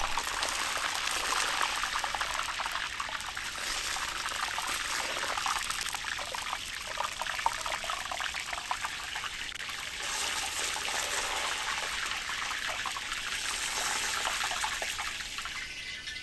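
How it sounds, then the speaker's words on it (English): Hot oil poured over meat makes the skin sizzle in a steady, bright hiss that runs unbroken from start to finish, fairly faint and alone without voices. "as I pour hot oil over the surface, you can see how the skin sizzles"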